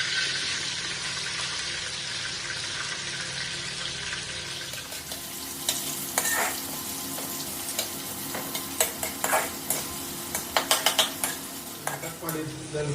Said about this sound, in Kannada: ಕಟ್ ಮಾಡಿದ ಈರುಳ್ಳಿ ಹಾಕ್ತಿದ್ದೇನೆ.